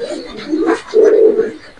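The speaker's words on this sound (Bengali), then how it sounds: "এখানে আছে এক পিস আফসান নর কবুতর" A male Afsan pigeon coos at a pigeon farm in soft, throaty bursts with a longer swelling coo midway, heard close by.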